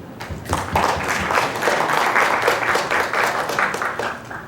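A conference audience applauds to welcome a plenary speaker, with steady dense clapping that rises quickly and holds at a moderate level for several seconds, slightly distant and reverberant in a lecture hall.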